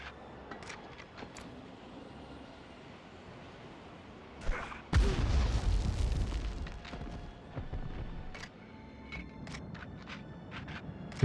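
A grenade blast in the 1999 Medal of Honor game bursts out as a sudden loud boom, then rumbles and fades over several seconds, with sparse scattered clicks and small game sounds before and after.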